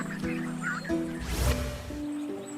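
Cartoon ducks on a forest pond give a few short, nasal quacks and honks over soft background music, fairly quiet and close.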